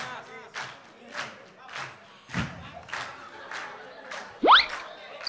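A live audience at a Pasión song contest claps along to a song, with loud rhythmic claps in a steady beat and crowd noise, ending in a short shout.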